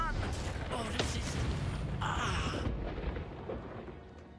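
A Bombarda blast spell erupts in the Hogwarts Legacy game, a loud burst of explosive rumble and crackling debris that peaks midway then tapers into a fading low roar.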